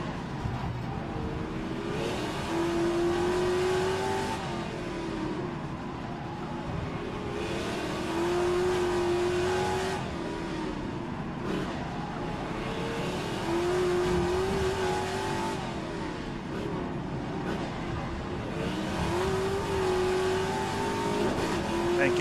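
Classic Trans-Am race cars compete at the Adelaide circuit, with V8 engines roaring loudly and repeatedly climbing through the gears as cars pass close by under continuous race commentary.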